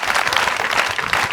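An audience at a school ceremony honoring a government minister breaks into dense, steady applause, many hands clapping together at close range.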